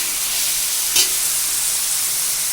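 Jackfruit seeds with onions and salt sautéing in a pan give off a steady, even sizzle with one brief stirring scrape partway through.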